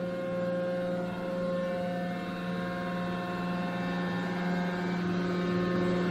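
A metal planer runs its table back after a cut during setup for making a precision measuring tool, giving a steady, close machine hum with layered tonal whine throughout and no talking.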